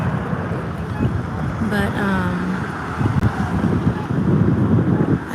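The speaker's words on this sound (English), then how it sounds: "It's really freezing cold out here. I don't know if y'all can see the wind blowing." Wind gusting outdoors on a freezing cold day in Washington, D.C., a low, buffeting rumble across the microphone that swells toward the end, with a brief bit of talk.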